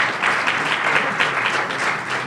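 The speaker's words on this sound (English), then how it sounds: "give them a round of applause" Audience applauding children at an evening event, dense continuous clapping that stays loud and close for the whole moment, with no voices over it.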